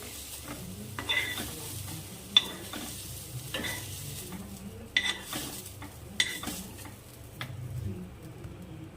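Spices such as coriander seeds and sesame dry roasting in a pan for misal, with a spoon stirring and scraping in bursts of clicks and rustles over a faint crackle, close and fairly quiet.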